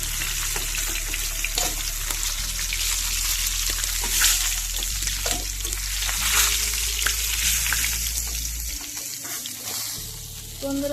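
Pieces of mirgel fish fry in hot oil for a Bengali-style fish curry, giving a dense, steady close-up sizzle with small crackles throughout and no talking.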